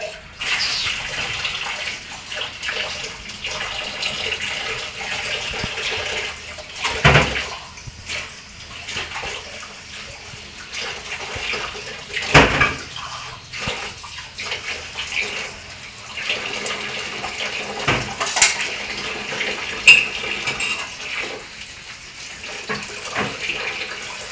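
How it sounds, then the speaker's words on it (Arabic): Tap water runs steadily into a sink with occasional clatters and splashes of dishes being handled, close by and without talking. "اغسل بقى شويه المواعين دولت الاول."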